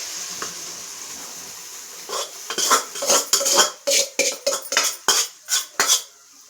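Rice and spices stirred in a cooking pan, a rhythmic run of metal spoon scrapes and clinks against the pan, close and fairly loud, building from sparse taps into a quick repeated series.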